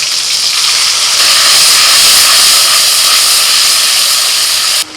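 Tomato paste tipped into hot oil already tempered with cardamom, cinnamon, cloves, ginger, green chilli paste and salt gives a loud, continuous close-up hiss and sizzle that holds steady for several seconds, then cuts off abruptly.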